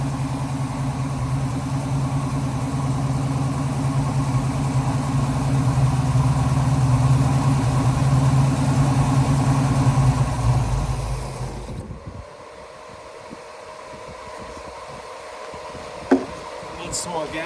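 A Small Block Chevy 350 V8 in a 1969 Buick Special Deluxe runs steadily with a deep, rumbling, slightly uneven idle while being tuned, then cuts off abruptly partway through, leaving a faint tick and a knock in the quiet.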